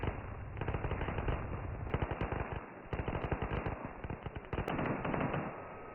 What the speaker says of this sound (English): It's just small arms fire coming from the bushes now.